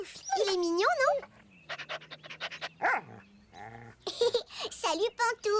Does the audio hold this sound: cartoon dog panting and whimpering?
yes